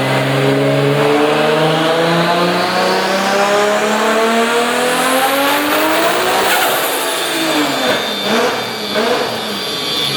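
A 1000 hp Nissan Cefiro A31 engine revving hard and loud nearby, its pitch sweeping up and down through repeated throttle blips over about ten seconds, with no voices.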